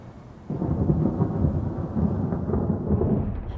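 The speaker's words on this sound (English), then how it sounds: "Everything's clouds and thunder." Thunder in a radio play sets in suddenly and rolls on as a deep, sustained rumble, loud and close, with no voices over it.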